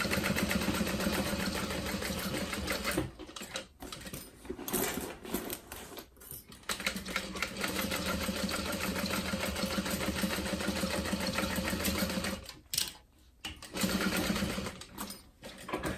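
A sewing machine slowly top stitches through the thick side connector of a zip-top tote bag. It hums and rattles close up in long continuous runs, broken by a few short pauses.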